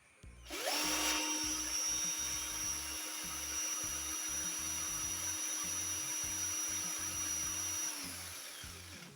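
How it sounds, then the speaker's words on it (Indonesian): A Kleiten 18V cordless impact drill spins up and runs at a steady, high whine for several seconds, then winds down. The sound is close and even, with no talking. "Suara yang dihasilkan pada bor ini sangatlah halus."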